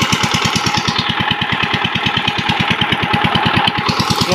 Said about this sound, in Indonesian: Kali ini kita menambang timah ya. Menambang lagi menggunakan mesin mini.